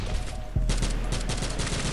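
Inside the mobile shooter Modern Strike Online, a grenade blast thuds amid ongoing gunfire, a brief loud boom followed by clattering bursts of shots in the close-range firefight.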